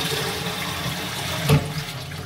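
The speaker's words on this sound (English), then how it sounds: "So when you flush the toilet," A household toilet flushes during a DIY repair of a leak at the back of the bowl near the wax ring, with a steady rush of water and a brief louder surge midway, close and without talk.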